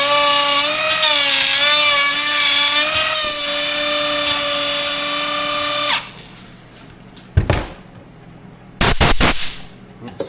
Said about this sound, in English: So it's pulling the router that way as I go